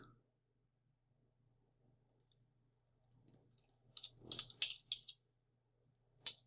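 One-handed typing on a computer keyboard beside a bed, quiet and slow: a few sparse faint clicks, then a short cluster of sharper keystrokes and a final lone tap, alone over a low steady hum.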